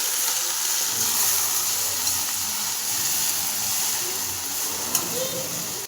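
Fenugreek leaves (methi bhaji) fry in a pan on low gas, giving a steady, close sizzle and hiss throughout, with faint scraping as they are stirred.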